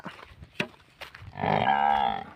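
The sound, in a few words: male buffalo calf mooing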